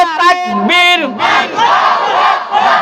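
A crowd at an Islamic sermon chanting takbir in unison, first a short sung call followed by a loud massed response of many voices that rises and holds, close and reverberant.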